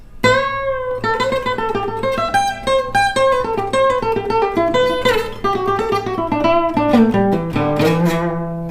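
A fast acoustic guitar lick, bright plucked notes running up and down in a steady flurry, close and clear with no voices.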